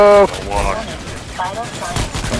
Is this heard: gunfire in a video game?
yes